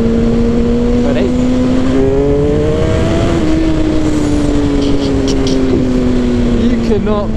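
A 2007 Suzuki GSX-R 1000 litre bike pulling hard in third gear: a loud, steady engine drone whose pitch climbs and shifts throughout, with constant wind rush.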